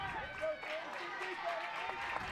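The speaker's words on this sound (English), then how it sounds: "as the Tuckerman faithful begin to clap" Tuckerman fans in the stands at a 2A East softball state championship game against Poinsett County clap steadily, a broad crowd patter blending with voices and ballpark chatter throughout.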